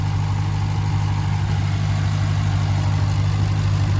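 A 2023 Dodge Durango SRT Hellcat's 710-horsepower supercharged 6.2-liter V8 idles with a steady, deep rumble and constant low hum, close and loud throughout with no talking.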